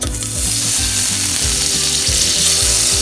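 Butter melts and sizzles in a pan on the stove for apple turnovers, a loud, continuous close crackling sizzle, with a low rhythmic hum underneath.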